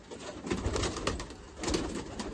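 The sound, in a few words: Jiriya pigeons cooing in a loft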